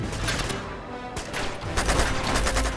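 Rapid bursts of gunfire from the video game Uncharted 2: Among Thieves, dense overlapping shots crackling loudly and continuously with a brief lull in the middle, no voices over them.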